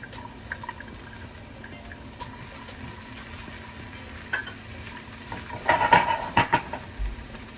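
Red onions and garlic sizzle softly in a hot pan while a utensil stirs and scrapes, with scattered clinks and a brief louder burst of clattering near the end.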